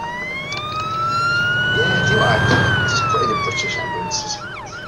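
A wailing ambulance siren passes through the OMSI 2 bus simulator game, its pitch rising and then falling as the vehicle goes by over a steady engine rumble, with voices talking faintly underneath.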